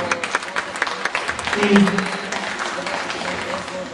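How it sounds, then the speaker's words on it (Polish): Audience at a children's dance competition claps in a dense patter under an announcer's voice, the applause fairly close and steady before gradually thinning out. "gorące brawa."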